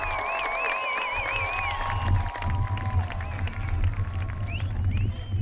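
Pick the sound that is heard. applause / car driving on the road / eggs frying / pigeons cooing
applause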